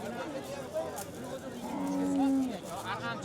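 Cattle low at an open-air livestock market in Fergana, where a drawn-out moo rises mid-clip above a murmur of people talking and the general hubbub of the bazaar.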